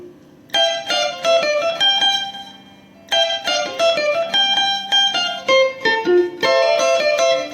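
Guitar plays a bright picked phrase of single notes from a solo, repeated twice with a short pause between, clear and close with no voices.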